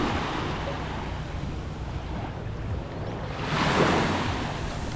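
Surf rolls onto Samae Beach on Koh Lan, Thailand, a steady wash of waves with wind buffeting the microphone and a louder breaker swelling near the end.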